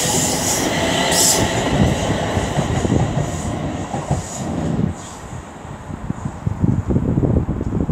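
A West Midlands Railway passenger train from Lichfield Trent Valley to Bromsgrove rolls through Aston station with a broad rumble, faint wheel squeal and some clatter, loud at first and then easing as it passes.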